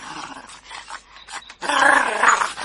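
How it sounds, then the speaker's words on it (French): A fierce dog growls and snarls up close in a nighttime theatre drama, starting with short broken rumbles and swelling into a louder, sustained snarl near the end. "Ce chien est une bête féroce."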